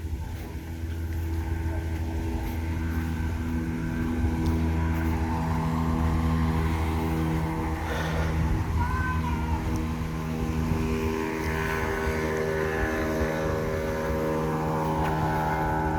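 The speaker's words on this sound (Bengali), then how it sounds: "স্পিড বোট চলতেছে। পর্যটকেরা স্পিড বোট নিয়ে ভ্রমণ করতেছে" A speedboat carrying tourists near a resort drones steadily across the water, its engine a loud, even hum that holds without a break.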